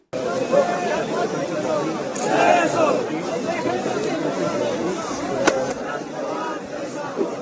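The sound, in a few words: crowd of Sharad Pawar supporters chanting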